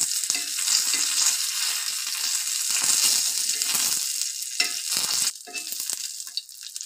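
Dried chili and three pieces of garlic fry in a hot pan, producing a loud, continuous sizzle with scraping stirs and brief pauses in the crackle.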